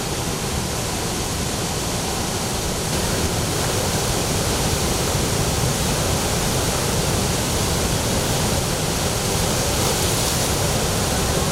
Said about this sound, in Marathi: पाणी वाढून राहिले बरं का